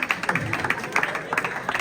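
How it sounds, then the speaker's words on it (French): Audience applause at a live performance in Paris, a quick patter of many hands clapping in short bursts, fairly close and steady across the moment. "Les gens applaudissent"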